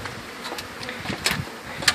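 Honeybees buzz close by during a hive cut-out in Lake Wales, Florida, a constant droning hum with individual bees zipping past the microphone in brief louder passes.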